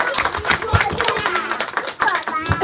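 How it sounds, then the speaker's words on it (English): A small audience claps hands in quick, uneven bursts while a voice talks over the clapping, all fairly close. "Give yourself a big clapping hand."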